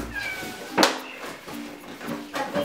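A FurReal Friends Daisy toy cat meows several times in a row, close and clear, with short tonal cries spaced about half a second apart and faint background voices.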